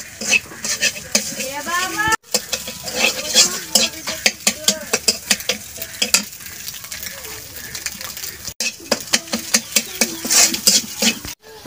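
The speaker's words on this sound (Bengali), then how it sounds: "রোল ভাজি করতেছি।" Rolls fry in a pan, a continuous sizzle broken by frequent clinks and scrapes of a utensil turning them, close and busy, with faint voices in the background.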